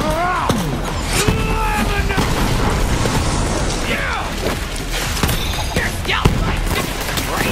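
A grenade explosion in the shooter game Borderlands 3, amid dense, loud game action with booms, pops, whooshing effects and chattering sounds, all close and continuous.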